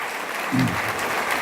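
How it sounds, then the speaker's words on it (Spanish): A church leadership gathering's audience applauds in a brief, dense wash of clapping, with a short voice sound rising briefly in the middle. "Pongámonos de pie para aplaudirlo así con el mismo cariño que lo recibimos. Por favor, un aplauso grande."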